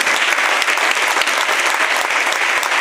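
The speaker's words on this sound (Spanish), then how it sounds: "un aplauso para Juan." A festival audience bursts into dense, loud applause for a performer at an Indigenous sound art event, steady and continuous throughout with no voices over it.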